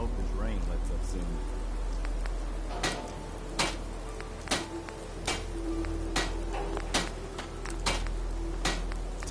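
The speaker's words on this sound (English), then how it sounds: "Hope this rain lets up soon." Steady rain in the game Fallout 4 hisses throughout, punctuated by regular sharp ticking clicks; faint voices murmur in the background.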